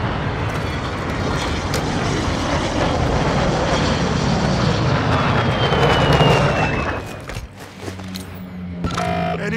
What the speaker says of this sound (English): Enemy VTOL!